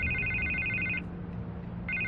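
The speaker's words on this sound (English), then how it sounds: "I can't get the phone to stop ringing" Telephone ringing in a Batman video game, a loud electronic ring burst, a short pause, then the ring starting again over a low game background.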